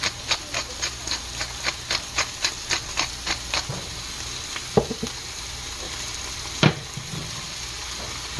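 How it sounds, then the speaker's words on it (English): Onion, garlic and meat frying in hot oil for lagman soup, a soft sizzle under a quick, regular run of tapping that fades out, followed by a couple of louder isolated knocks. "we got the oil nice and hot. We're throwing in all the onion and garlic. And we're throwing in all of the meat."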